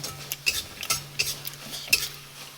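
Nimki, a fried snack of ruli flour dough with kalo jeera, frying in a little oil, with a faint steady sizzle under sharp intermittent scrapes and clinks of a utensil stirring in the pan.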